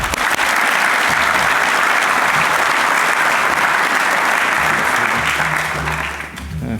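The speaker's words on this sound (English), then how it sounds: "homai te paki paki, and that means big clap" An audience at a university conference breaks into loud, sustained applause, dense and even for several seconds before tapering off at the end.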